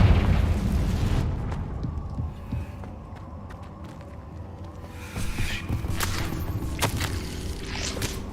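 Loud Confringo blasting-spell explosion in Hogwarts Legacy: a heavy booming burst at the start fades into rumbling debris and scattered crackles, then another surge of blast noise and pops builds toward the end.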